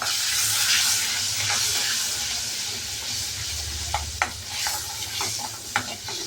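Spices and turmeric sizzle steadily while being sautéed in hot oil for a sweet-and-sour Maharashtrian varan, a close, continuous frying hiss with occasional sharp crackles and pops, no voices.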